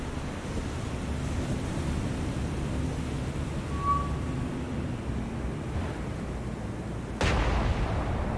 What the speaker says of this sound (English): Main guns, HE, full, spotting fire.